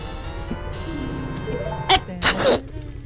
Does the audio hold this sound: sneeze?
yes